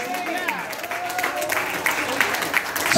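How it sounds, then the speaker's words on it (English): A church congregation claps and praises together, mixed clapping and crowd noise rising and falling beneath a preacher's loud voice, with cheers swelling toward the end. "clap your hands and give God all the praise"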